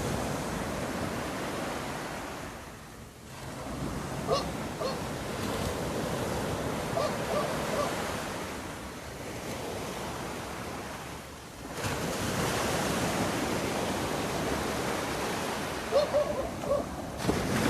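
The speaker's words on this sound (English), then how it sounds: "You can hear the ocean and enjoy this beauty." Ocean surf rolls onto a south coast beach in Barbados, the waves washing in and receding in slow swells with a soft, steady hiss of wind, fairly quiet and without talk.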